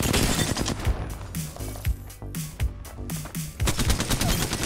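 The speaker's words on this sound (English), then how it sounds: "someone's shooting at me" Rapid bursts of gunfire in Apex Legends crackle close and loud, fast automatic volleys broken by short pauses and layered with game effects, no voices heard.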